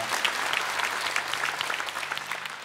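Steady applause from a church congregation at a festival service, dense and continuous throughout, moderately loud with no talking over it.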